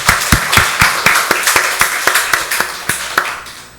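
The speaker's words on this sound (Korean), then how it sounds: "박수로 하나님께 영광 돌리겠습니다" Rhythmic unison clapping from a church congregation during a Sunday worship service, about a dozen loud, evenly spaced claps in a steady beat, close and clear with no talking.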